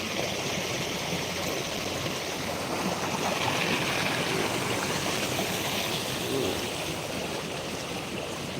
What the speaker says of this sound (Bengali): উপর দিক থেকে পুরা জল আসছে